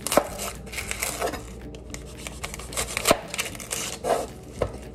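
A knife chops through the ends of a white onion on a board, a handful of crisp, separate cuts with short gaps between them, close and fairly quiet.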